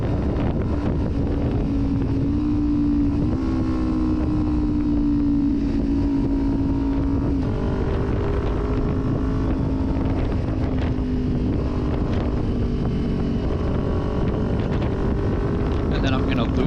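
Kawasaki Ninja 400 motorcycle cruising on a freeway, its steady engine drone shifting pitch slightly under heavy wind rush, continuous throughout with a rider talking over it.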